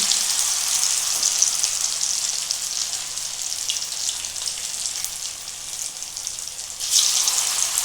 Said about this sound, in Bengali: বাকিগুলোও সব ভেজে নেব